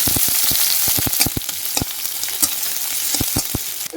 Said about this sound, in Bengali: তো পেঁয়াজগুলো ভালোভাবে ভাজা হয়ে গেছে